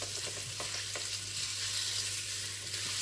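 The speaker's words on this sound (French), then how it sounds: "10 grammes de beurre, je fais fondre dans la poêle." Butter melting in a frying pan gives a steady, close sizzle with a constant hiss and a low hum beneath, with a few faint scraping taps and no talking.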